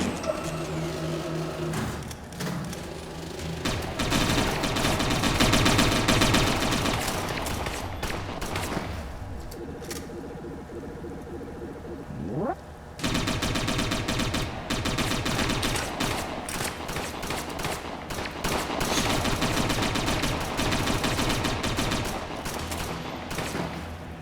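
Gunfire in the video game Satellite Reign as a security camera is shot, dense rapid volleys of shots running almost throughout, loud and close, with a brief quieter lull in the middle before the firing resumes.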